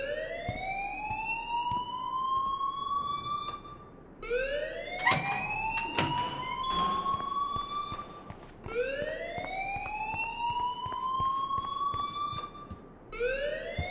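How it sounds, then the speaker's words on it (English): Rising, wailing siren-style alarm in the Life is Strange video game, sweeping upward in repeated long cycles, loud and continuous, with a few sharp clanks and knocks in the middle. "please turn off that alarm since that's your job."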